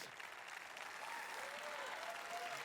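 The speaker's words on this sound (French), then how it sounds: "Si vous n'applaudissez pas à ça." Applause from a gathered audience at a French-language Christian sermon, steady clapping that fills the whole stretch at moderate loudness, with a few faint voices mixed in.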